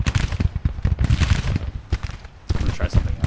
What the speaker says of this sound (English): I hear the shooting out here